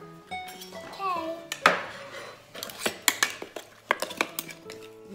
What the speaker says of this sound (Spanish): Vamos a mezclar y a mezclar hasta que se quede